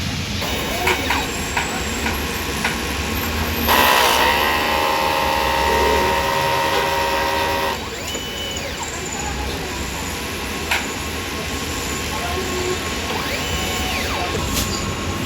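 A DTF printer runs a print-head cleaning cycle: close mechanical clicking and ratcheting, then a louder whirring pump stretch in the middle, then lighter ticks and clicks again.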